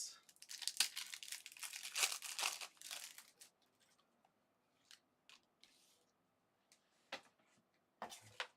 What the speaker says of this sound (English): let's crack this promo card out